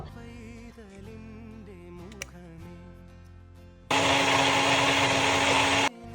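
Cashews being ground in a mixer grinder, a loud whirring motor burst of about two seconds after a stretch of quieter background sound with faint music.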